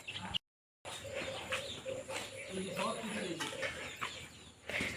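Chickens cluck at a village house in West Bengal, with intermittent close calls and soft chirps mixed in with people talking nearby.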